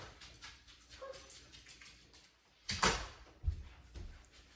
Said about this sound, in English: One of our dogs wanted to go out.